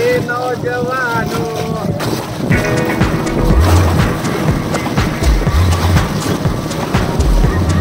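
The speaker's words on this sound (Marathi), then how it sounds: "2 ग्रुपने आम्ही बोट राईड करणार आहोत." Motorboat ride at sea off the Goa coast, with a steady engine drone, wind buffeting and water slapping against the hull, loud and close throughout.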